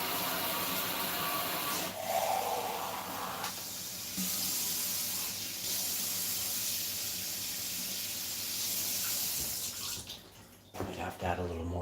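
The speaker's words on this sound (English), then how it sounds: "We're gonna pour this cold water." Cold water poured while preparing a plant-based breakfast plate, a steady hissing splash that runs for about ten seconds at moderate loudness, then cuts off into brief clatter near the end.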